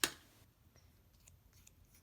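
Scissors cutting fabric at close range: one sharp snip at the start, then a few faint, scattered small cuts and rustles in a quiet room.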